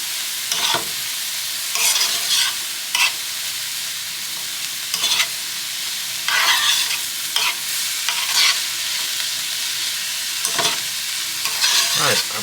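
Vegetables for cheesesteak egg rolls sizzle in a hot pan while a utensil stirs them in repeated scraping bursts, with a steady frying hiss underneath and no voices.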